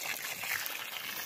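Water poured by a boy onto a newly planted apple seedling in a village orchard, a steady soft trickle and splash running close by throughout.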